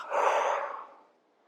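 A single long exhale through the mouth during a hatha and vinyasa yoga flow, a close breathy rush that swells quickly and fades away over about a second.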